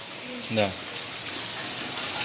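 Rainwater streams across a rooftop terrace during a monsoon shower as a steady, even wash of hiss throughout, with a brief voice near the start.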